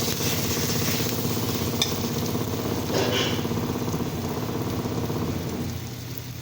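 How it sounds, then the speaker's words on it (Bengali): Ground matar dal paste frying in oil with panch phoron and dried chilli, giving a steady, close, dense sizzle that hisses on without pause. "এবার এটা একটু ভাজা ভাজা হবে"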